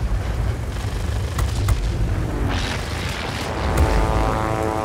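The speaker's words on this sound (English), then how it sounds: "Well, thankfully there's like 4 or 5 more planes behind me!" Propeller warplane engines roar continuously in World of Warplanes gameplay, a loud dense drone with some rumbling and passing swells throughout.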